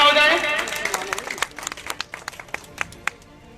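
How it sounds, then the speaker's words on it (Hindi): Applause rises at a political party event as a state vice president is welcomed, starting as a dense burst under a voice, then thinning to scattered individual claps near the end. "जोरदार तालियां हो जाए"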